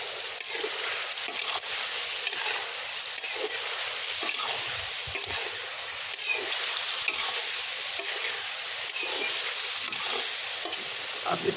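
Chicken pieces for a Peshawari charsi karahi fry over high heat, a loud, dense, steady sizzle with occasional stirring scrapes and clicks throughout, no voices.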